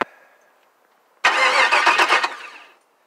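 A Chevrolet Caprice with an LS engine swap cranks briefly and catches, a loud burst of starter whir and engine firing that sputters for about a second and a half before dying away.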